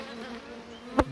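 Honeybees and drones buzz steadily around an open hive, a close, continuous hum with one sharp knock near the end.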